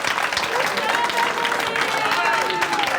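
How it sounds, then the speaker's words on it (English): Audience applause for Emily at a mentalist's stage show, a dense, steady wash of clapping from a crowd that holds at an even level for the whole stretch, with no clear pauses. "give Emily a big round of applause"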